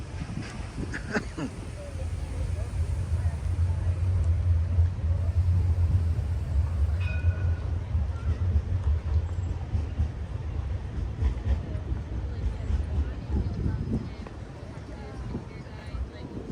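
Tram rumbling past Princes Street Gardens in Edinburgh, Scotland, a steady low mechanical rumble that swells and holds for most of the stretch amid outdoor street noise, with a brief tonal squeal partway through.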